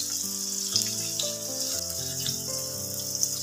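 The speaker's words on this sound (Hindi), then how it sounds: "बाकी के पनीर बचे हैं उसे भी इसी तरह लाल कलर होने तक फ्राई कर कर ले लेंगे।" Long strips of paneer fry in hot oil, giving a steady, bright sizzling hiss throughout with soft crackles, while a tonal background layer plays underneath, with no talking.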